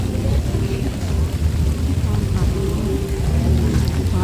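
Steady rain falls at a lakeside park in Palembang, a dense continuous hiss of drops on surfaces with possible low rumbles, while voices chat faintly underneath.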